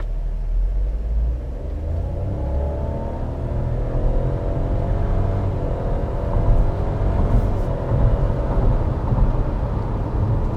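A Fiat Pulse SUV's 1.0 turbo engine rumbles as it accelerates, a deep, steady drone with a rising tonal whine over several seconds, heard from inside the car without speech.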